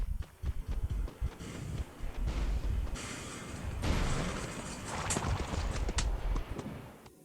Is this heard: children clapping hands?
no